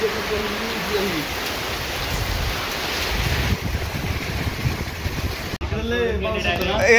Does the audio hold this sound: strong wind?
yes